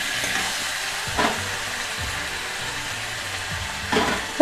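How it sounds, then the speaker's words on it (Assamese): Broiler chicken meat fries with green chillies in a pan, a steady close sizzle broken by a few clanking stirring scrapes. "5 মিনিট মাংসখিনি ভাজি লোৱাৰ পিছত 2টা কেঁচা জলকীয়া আমি দি দিম"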